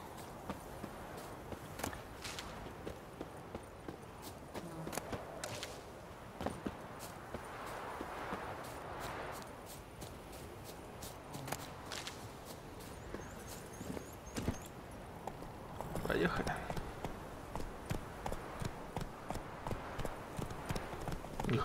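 A horse's hooves clip-clop at an easy walking pace in The Witcher 3: Wild Hunt video game, steady and fairly close, over soft ambient background sound from the game world.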